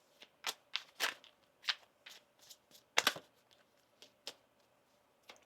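Tarot cards shuffled by hand during a reading, a series of crisp riffling bursts and soft slaps with uneven pauses between them, close and quiet with no talk.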